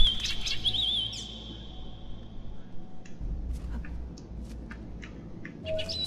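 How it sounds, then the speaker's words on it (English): Birds in Assassin's Creed Chronicles China chirp in game ambience, with a run of high, warbling tweets at the start and scattered short calls later over a low background rumble. "And birds, yes."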